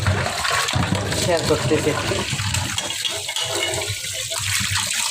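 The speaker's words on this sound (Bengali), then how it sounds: "মাছটা যত ধোয়া সম্ভব বেশি ধুলে মাছটা ভালো" A rui fish being washed by hand under a running tap, a steady splashing rush of water filling the whole moment while someone speaks briefly over it.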